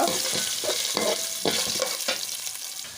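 Garlic frying in oil for a mango rice dish, a close, steady sizzle with intermittent scraping stirs and soft clatter, slowly easing off, no talk.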